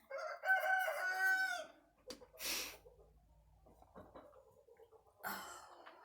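A rooster crows loudly nearby, followed by scattered clucks and a second burst of crowing from free-range chickens, with quiet gaps between.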